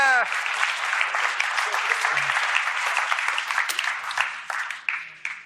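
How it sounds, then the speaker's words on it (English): An audience at a keynote sales talk claps hard in sustained applause, loud and dense from start to finish, with a brief voice at the very beginning. "Let's give him a massive clap over here."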